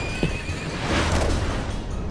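A horse whinnies in a long wavering neigh over a dense, rumbling backdrop, loud and close, with faint hoof-like clatter beneath.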